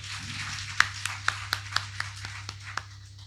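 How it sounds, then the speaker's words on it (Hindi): A small audience at a Bhagwat katha claps for a young man, a run of about ten sharp, separate handclaps at an unhurried, uneven pace over a low steady hum, with no talking. "ताली बजाओ जरा इनके लिए।"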